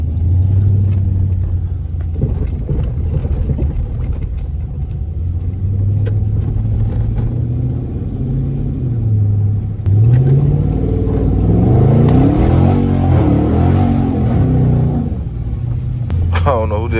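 A Dodge Charger R/T drives on rain-soaked roads through puddles, with a low, steady engine rumble and swells of revving and tire wash while someone talks over it.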